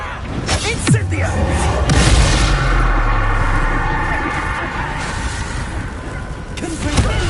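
An Incendio fire spell cast during combat in the Hogwarts Legacy video game, loud booming bursts and heavy thuds over a dense, roaring layer of battle noise, with voices mixed in.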